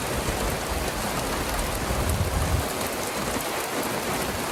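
Rain falls steadily at a carp fishing lake, a loud dense patter of drops hitting surfaces close by, continuous and unbroken with no voices.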